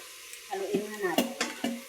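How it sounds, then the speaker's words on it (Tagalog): Beef and mushrooms frying in a pan being stirred, with a steady close sizzle and several scraping, clattering strokes of a utensil against the pan. "haluin na natin."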